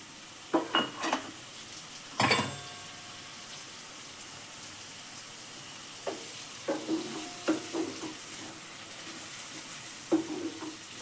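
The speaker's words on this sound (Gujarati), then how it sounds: "હવે આપણે આ વટાણાને આમ સડી જવા દઈશું નાખી દઈએ આપણે ટમેટો" Green peas and tomatoes fry in a pan, a quiet hiss under scattered spoon clanks and stirring knocks, one louder clatter early on, then softer scrapes spaced across the stretch.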